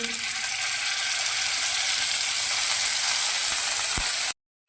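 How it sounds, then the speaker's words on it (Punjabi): Cumin and ginger-garlic paste sizzle loudly in hot oil for a paneer and capsicum curry, a dense steady crackle close up that continues until it cuts off abruptly near the end. "ਹੁਣ ਇਹ ਆਪਣਾ ਜਿਹੜਾ ਤੇਲ ਗਰਮ ਹੋ ਗਿਆ ਉਹਦੇ ਵਿੱਚ ਆਪਾਂ ਜੀਰਾ ਪਾਉਨੇ ਆ ਤੇ ਨਾਲ ਹੀ ਆਪਾਂ ਲਸਣ ਤੇ ਅਦਰਕ ਦਾ ਪੇਸਟ ਪਾ ਦਿੰਨੇ ਆ"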